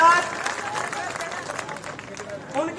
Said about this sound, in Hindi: मैं चाहूंगा एक बार जोरदार तालियों से आप उनका वेलकम करें।